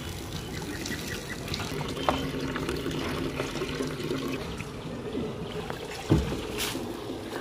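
Grain for flour is washed by hand in water outdoors under hot sun, ahead of drying and milling: steady close sloshing and swishing of water throughout, with a couple of sharper splashes.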